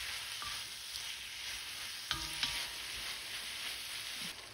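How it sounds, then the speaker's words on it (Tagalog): Zucchini, carrots and bell pepper stir-frying in a hot pan: a steady, bright sizzle with a few brief utensil scrapes and clinks near the middle, no talking. "I-mix lang natin. Lutuin natin ng mga 3 minutes."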